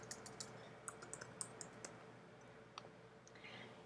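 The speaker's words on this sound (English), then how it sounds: "I'd simply type that over just like I would in Microsoft Word" Keys tapped on a computer keyboard while editing text, a quick uneven run of faint clicks in the first half with a couple of isolated taps after, in a quiet room.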